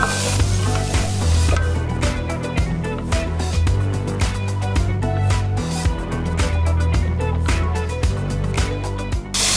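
Vegetables sauté in hot oil inside a Nava pot, giving a loud, steady sizzle punctuated by repeated scraping and clicking from stirring, with no voices.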